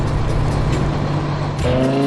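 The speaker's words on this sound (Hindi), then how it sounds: "शांत वादियों में इंजन की गूंज सुनाई देती है, मानो यह किसी बड़े रोमांच की शुरुआत हो।" A purple truck's engine rumbles in a quiet valley in a children's vehicle cartoon, producing a loud, steady low drone that holds throughout, with a brief shift in tone near the end.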